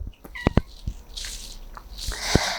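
A domestic cat indoors gives a few short, close meows and chirps, separated by quiet gaps, with some faint rustling in between.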